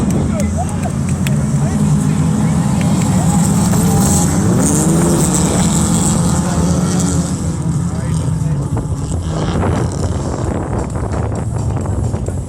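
Autocross race cars roar through the opening straight and first turn of a T3 final at Princé, a loud continuous engine drone with wind buffeting, heard under constant commentator speech.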